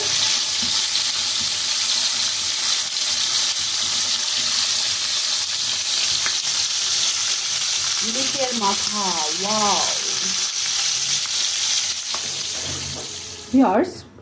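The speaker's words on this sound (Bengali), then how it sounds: "দুই চুলাই দুই রকম মাছ ভাজি চলছে" Hilsa and tilapia fish fry in oil in pans on two stoves, giving a continuous loud, hissing sizzle throughout, with a brief voice speaking over it midway and a short clatter near the end.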